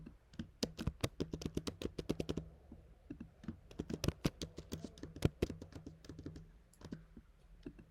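Rapid bursts of key clicks from someone typing on a computer keyboard while entering names into spreadsheet cells, close and crisp, with brief pauses between runs of keystrokes.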